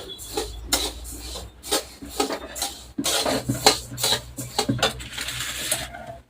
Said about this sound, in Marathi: आता खोबरं आणि धने भाजून घेणार आहे